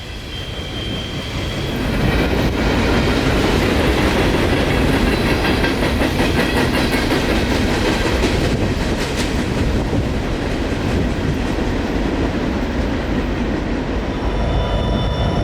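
A long, empty coal freight train rumbles past close by at Pennsylvania's Horseshoe Curve in winter, loud and continuous, with rhythmic clickety-clack of wheels over the rails and some metallic squeal.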